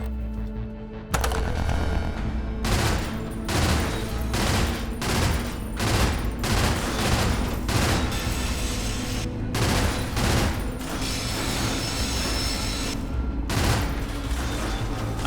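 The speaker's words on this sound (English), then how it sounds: "Heavy machine gun burst." Heavy machine gun from the game Cryptark firing in repeated short bursts, loud and close, with rapid cracking shots separated by brief pauses over a steady low rumble.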